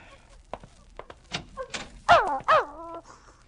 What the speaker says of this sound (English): Let the dog in.